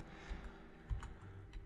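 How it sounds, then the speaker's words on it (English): Arrow keys on a computer keyboard are tapped a few times, faint soft clicks spread across a quiet room background. "you can hear me tapping the arrow keys"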